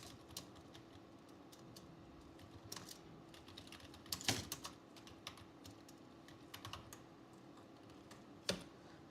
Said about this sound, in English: but I can still type, I think